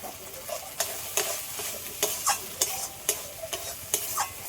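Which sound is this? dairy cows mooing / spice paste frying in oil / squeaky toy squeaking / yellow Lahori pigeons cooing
spice paste frying in oil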